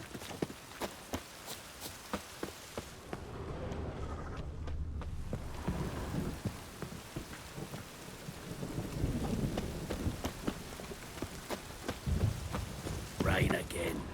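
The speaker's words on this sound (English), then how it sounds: "Rain again." Steady rain pours with rolling thunder in The Witcher 3, a dense hiss broken by repeated sharp cracks and low rumbles, with footsteps and brief muffled talk in the mix.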